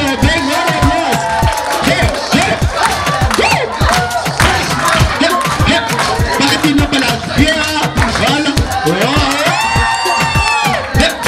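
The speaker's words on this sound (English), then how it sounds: "Let's give them a big round of applause." Wedding guests cheer, whoop and shout for the newlyweds, a loud, dense crowd roar that stays continuous and lively throughout, with voices mixed into the din.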